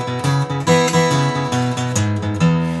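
A boogie woogie blues riff is fingerpicked on acoustic guitar, a steady driving bass line with pinched upper-string notes on top, played loud and clear with no talking.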